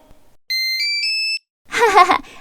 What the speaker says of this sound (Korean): 나 비밀번호 누르고 들어간다